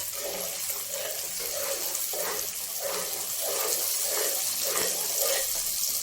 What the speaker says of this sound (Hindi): तो अब मैं इसमें मक्खन डालती हूँ।